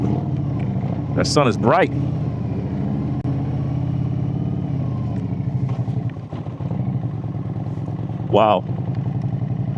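A motorcycle engine idling and running at a steady low rumble as a ride begins, with someone talking over it and a couple of brief higher revs.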